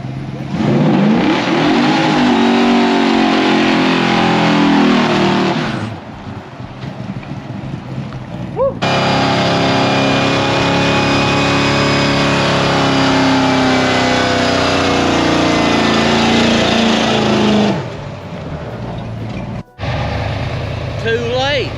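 Twin turbo Coyote-powered Ford F100 doing burnouts, a loud sustained engine roar with tire noise that drops briefly and surges again, voices audible over it.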